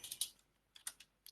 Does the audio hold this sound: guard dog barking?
no